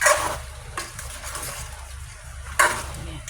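Pork adobo simmering and sizzling in soy sauce in a pot, with a constant frying hiss and sharp clattering stirs of a utensil against the pan at the start and near the end.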